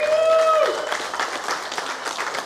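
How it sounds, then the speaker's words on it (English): Applause and cheering from a crowd at a car dyno day rise after a tuned Ford Barra engine's run, steady clapping with a short tonal tail fading at the start. "Big round of applause for Zelko for getting his car up."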